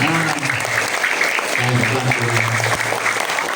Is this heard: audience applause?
yes